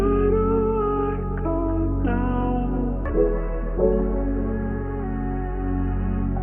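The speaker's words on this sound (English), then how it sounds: "all of the high end is completely cut out of the sample" A sampled melody resampled to 6500 Hz so everything above is cut away, leaving a dark, muffled, underwater-like tone; sustained chords shift every second or so, with no voices.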